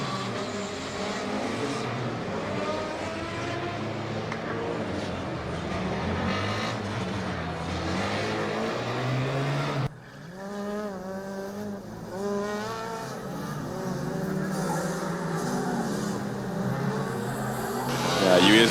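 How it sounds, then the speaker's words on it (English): A Formula Student race car on track at a Formula Student Germany event, its engine whining through rising and falling revs with repeated bursts against the rev limiter, loud and continuous, with a brief cut midway before the engine note resumes. "US Munich almost appears to spend more and more time in the rev limiter now"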